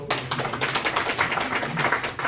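Audience applause in a church hall during an elder-training session, a steady patter of many hands clapping together at close range for about two seconds, with no talking over it.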